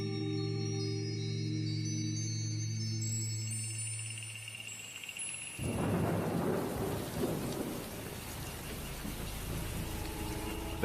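Heavy rain pours in a jungle at night, then a loud, close thunderclap breaks and rumbles on over the steady downpour, with no voices.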